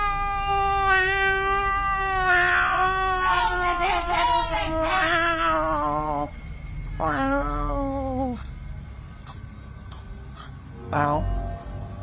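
A creature called a parakang gives drawn-out, wavering cries that rise and fall like a distressed cat's caterwaul, loud and close, breaking into shorter wails after a pause and ending with one brief sharp yelp.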